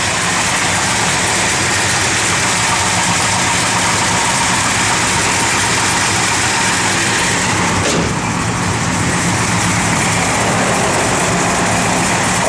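A 1967 Plymouth GTX running on pump gas idles steadily and loud, its deep lumpy rumble continuous and close, with no talk over it.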